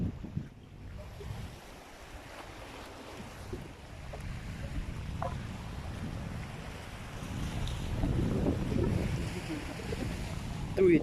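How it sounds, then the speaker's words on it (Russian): Strong wind gusts across the microphone on a seashore island at low tide, a steady broadband rumble with surf-like roar building louder toward the end, with no speech heard. "Дует, как сильный ветер."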